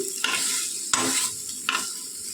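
A jackfruit snack mixture stirred in a pan, three distinct scraping sweeps over a low continuous sizzle, close by and without talk.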